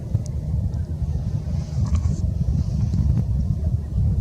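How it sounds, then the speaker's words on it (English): Gusty wind buffeting the microphone beside water, a heavy continuous low rumble with faint voices in the distance. "But it is windy."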